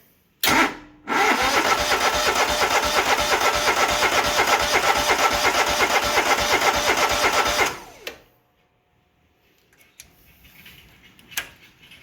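Grazer G2297K engine on a test fire cranks briefly, then catches and runs loud and rough with a rapid, steady beat for about seven seconds before dying abruptly, leaving faint clicks and knocks in the quiet afterward.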